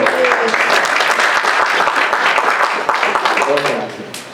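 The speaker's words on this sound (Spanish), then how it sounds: "otro aplauso a ella, por favor" Audience applause fills a workshop room for teachers, a dense, steady burst of many hands clapping at close range that thins out toward the end.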